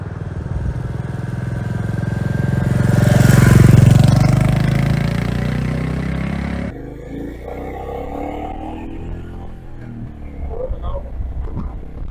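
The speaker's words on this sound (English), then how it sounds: "Bike is cruising at 50," A Royal Enfield Goan Classic 350 motorcycle cruises along a highway, its single-cylinder thump swelling to a loud peak before dropping to a lower steady rumble with wind noise, a voice talking over it.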